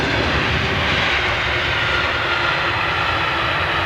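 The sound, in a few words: airplane landing with jet engines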